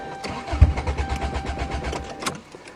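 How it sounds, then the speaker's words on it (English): Toyota car engine cranking on a cold start in snowy winter, running with no exhaust: a steady, rapid mechanical churning of the starter, close and continuous, without catching. "Cars with no back pressure and no exhaust are always hard to start in the cold."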